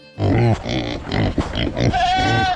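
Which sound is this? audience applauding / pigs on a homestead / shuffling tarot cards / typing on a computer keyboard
pigs on a homestead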